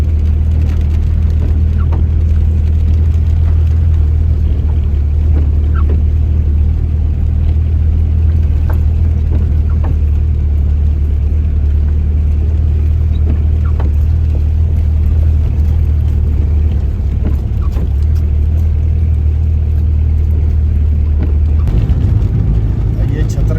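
Car engine straining uphill on a mountain road near Chattar in Mansehra district, a loud continuous low rumble with road noise throughout, close and steady, with people talking over it.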